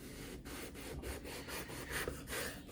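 A knife cuts eggplant into quarter-inch slices on a board, giving a steady run of soft rhythmic crunching strokes about every third of a second, close and moderately quiet, with no talking.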